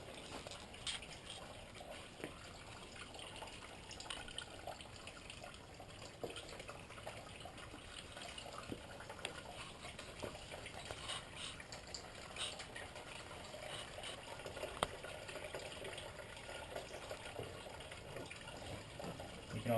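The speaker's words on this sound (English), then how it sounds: "you just pour it out in the disposal here." Old engine coolant from an Infiniti G37 poured into a disposal, a steady low watery gush and trickle running continuously without talk.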